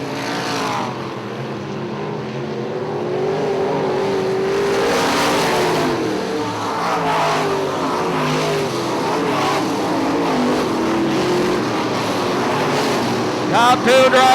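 IMCA modified race cars roar around the oval at Ionia Raceway Park, a continuous loud engine drone rising and falling as cars pass, with a track announcer talking over it.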